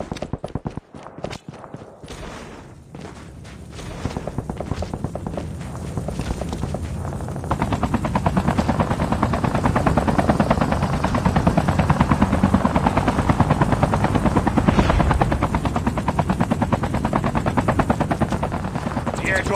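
A helicopter from COD Mobile arrives with a steady, loud rotor drone that builds and holds, with a burst of gunfire and clattering at the start.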